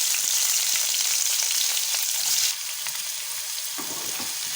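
Onions, mustard seeds and curry leaves fry in hot oil with a loud, dense sizzle that drops to a softer, steady crackle partway through, with brief stirring scrapes near the end.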